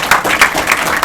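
An audience applauds a team supporter at a felicitation for the Kho Kho World Cup–winning men's and women's teams, a brief burst of crowd clapping with voices mixed in.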